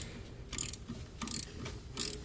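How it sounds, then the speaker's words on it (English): A ratchet with an 8mm socket tightens bracket screws for a hidden trailer hitch receiver, giving three quick bursts of rapid clicking spaced about evenly, close and fairly quiet, with no talking. "I'm going to use a Phillips driver and an 8mm socket to tighten up those screws"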